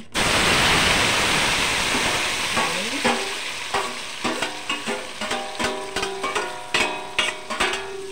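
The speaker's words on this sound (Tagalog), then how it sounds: "Igasahin ko na yung aking sibuyas and kamatis." Onion, tomato and garlic hit hot oil in a pan and sizzle loudly at first. The hiss then settles under a steady series of sharp metallic clinks as a utensil scrapes and taps the pan.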